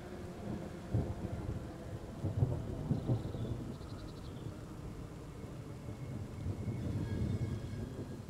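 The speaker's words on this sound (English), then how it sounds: "Look at the rain." Heavy rain falls steadily while deep rolls of thunder rumble repeatedly, with some wind buffeting the microphone and a faint beeping midway.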